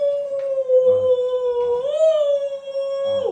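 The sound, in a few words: child imitating a wolf howl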